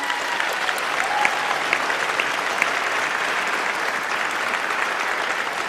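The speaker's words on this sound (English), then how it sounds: "if we could give a real big shout of applause to that camera up there" A large crowd at a university convocation for a college of international studies applauds, a sustained, even roar of many hands clapping at a distance, steady and loud with no pause.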